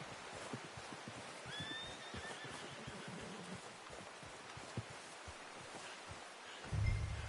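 A horse whinnies in a video game soundscape, with hoof clops and light ambient noise throughout and a louder thump near the end.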